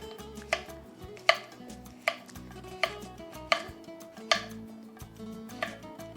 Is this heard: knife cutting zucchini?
yes